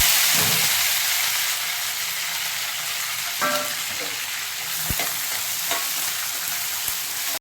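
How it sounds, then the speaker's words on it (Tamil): Hot oil hisses and sizzles steadily while mustard seeds and chana dal pop and splutter in scattered sharp crackles, close and fairly loud, with no talking. "அதனால் கடலைப்பருப்பு போட்டுட்டு அதுக்கப்புறம் கடுகு பொரிய விடுங்க."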